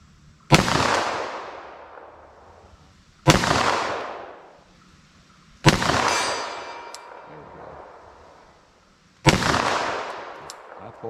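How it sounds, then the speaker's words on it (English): Four loud 10mm handload gunshots from a Glock 41 converted to 10mm, fired slowly at an outdoor range, each a sharp crack followed by a ringing decay, spaced about two to three seconds apart. "So I'm just going to aim center mass and shoot kind of slow"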